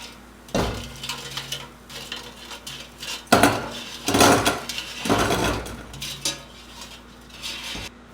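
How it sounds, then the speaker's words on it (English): Tater tots are moved from an air fryer basket into a small pan, giving a few scattered clinks, scrapes and clatters of food and metal close by, with quiet gaps between them. "I'm just going to put these tater tots over into this smaller pan."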